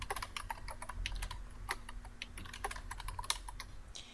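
Steady typing on a computer keyboard while writing labels in Silhouette Studio software, with irregular close clicks and small bursts of keystrokes running throughout, no talking.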